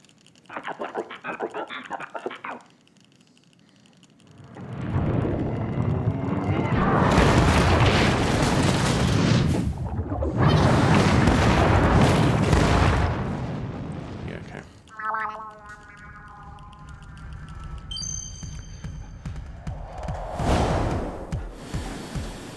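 A rocket blows up in a video game with a huge roaring explosion lasting several seconds, followed by whooshing debris and quieter game effects. Lighter game sounds come before the blast and after it, and a voice talks over parts of it.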